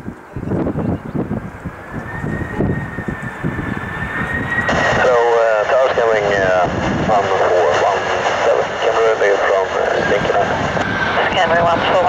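An Ilyushin airliner lands at Arlanda airport, its steady engine roar with a rising whine building loud and close, while radio voices from air traffic control talk over it throughout.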